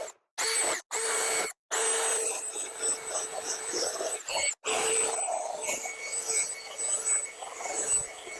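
A wire wheel spun by a drill strips old headliner material from a 2003 GMC Suburban, a loud whirring grind that cuts out in three short gaps early on, then runs on continuously with a harsh, rasping edge.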